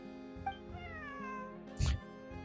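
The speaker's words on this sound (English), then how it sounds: "This is my friend's cat." A cat in Genshin Impact gives a couple of short meows over background game music, followed by a brief louder rustle.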